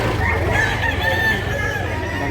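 Several roosters crowing and clucking over a constant crowd murmur at a chicken market in Consolacion, North Cebu, with the crows steady and moderately close.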